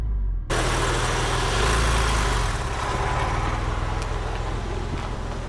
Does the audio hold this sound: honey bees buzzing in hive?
no